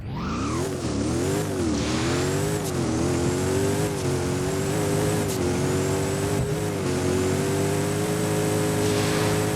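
In the Driving Empire racing game, a Devel Sixteen engine roars through repeated rising revs, each climb cut by a brief shift before building again, loud and close with no talking.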